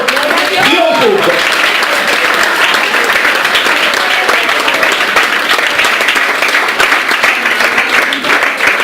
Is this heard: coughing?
no